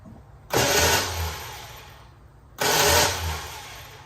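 A 1972 Dodge Dart that sat for 27 years, fitted with a new starter, cranks in two loud close bursts, each a rough whirring churn that fades before stopping, with a short quiet gap between them.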